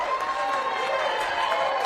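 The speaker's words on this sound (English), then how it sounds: "Well, they're applauding for me." An audience claps steadily, a dense, even patter of applause at moderate distance that holds for under two seconds alongside talking.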